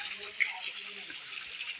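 A waterfall near Sitakund in Mayurbhanj, India, pours in a steady hiss of falling water, fairly faint and continuous, with a voice talking briefly over it.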